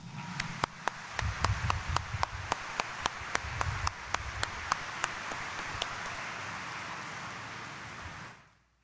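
A congregation at Quiapo Church Sunday Mass claps for the Black Nazarene, first in sharp, evenly spaced rhythmic claps, then in a steady broad applause that cuts off abruptly.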